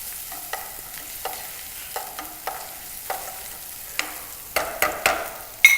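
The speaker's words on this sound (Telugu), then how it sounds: "నూనె వేడైంది కదా, దీంట్లో మనము సన్నగా తరుక్కున్న ఉల్లిపాయ ముక్కలు వేయాలి." Onions with ginger-garlic paste and turmeric frying in hot oil, a steady sizzle broken by repeated scraping stir strokes that grow louder and quicker toward the end, close and alone with no talk.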